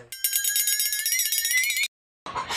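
A notification bell sound effect rings loud and close as a rapid, bright metallic trill for under two seconds, then cuts off abruptly, followed by a short burst of noise.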